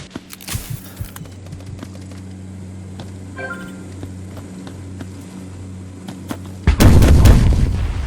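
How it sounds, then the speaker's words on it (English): Enemy mortar fire in the shooter game Hired Ops: scattered distant gunshots and faint thuds build to a heavy, roaring explosion near the end, with no talking. "Enemy mortars working."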